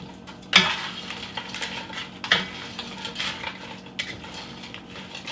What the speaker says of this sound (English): Stir that around so it gets browning.